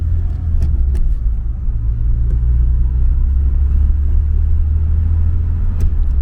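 A Citroën CX Athéna with a worn second-gear synchro drives along, its steady loud engine rumble and road noise filling the cabin with no voices.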